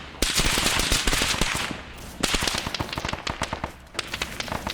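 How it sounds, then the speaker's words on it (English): Machine gun fire in the military shooter game Arma 3 rattles in long, dense bursts of rapid cracking shots, loud and close, with a brief pause between strings of fire and no talk. "That's the fire of the MG."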